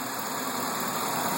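A car engine idles after being started, with the coolant overflow tank hooked up, giving a steady, even hum that holds at the same level throughout.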